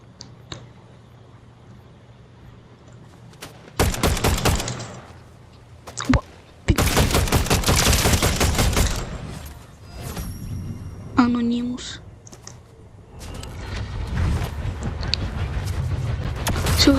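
Bursts of gunfire in Fortnite, sharp loud volleys with gaps between, mixed with thuds and other game noise under occasional talk.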